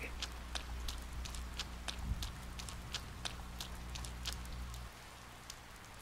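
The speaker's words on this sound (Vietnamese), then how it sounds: "Mưa, trời mưa." Rain falling in the video game Persona 4 Golden, a steady soft patter with scattered sharper drops over a low droning background hum, with no talk.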